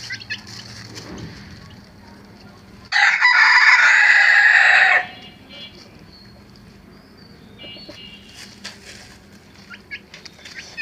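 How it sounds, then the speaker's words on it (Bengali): A naked-neck rooster crows once, loud and close, over a yard of quietly clucking naked-neck chickens, with scattered softer clucks and calls afterward. "আমি এই গলা ছিল মুরগিটা নিয়ে আসছি 1 সপ্তাহ হলো।"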